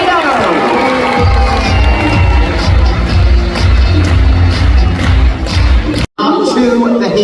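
A live audience at a kids' science show claps and cheers loudly after a fire tornado demonstration, a dense sustained roar of applause and shouts with a brief cut near the end.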